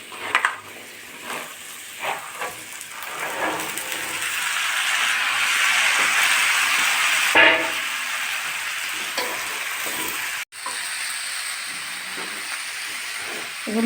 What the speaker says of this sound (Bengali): এখন আমি সিদ্ধ করে রাখা ছোলাগুলো দিয়ে দেবো